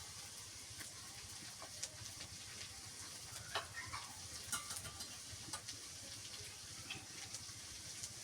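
Chopped onion frying in a pan for a Bengali village-style hilsa fish meal: a faint, steady sizzle with scattered small pops and crackles throughout.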